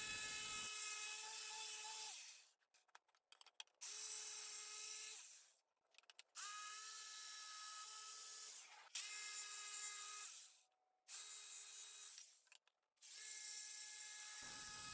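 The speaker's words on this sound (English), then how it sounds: "So I move on to cutting out the larger ones with the jigsaw." A jigsaw cuts out large wooden Easter decorations in five loud, sustained bursts with short quiet gaps between them, its high-pitched motor whine shifting slightly as the blade moves through the wood.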